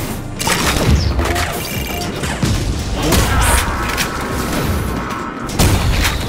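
Loud, dense shotgun booms and crashes from the video game Ion Fury, firing repeatedly with little pause amid chaotic effects.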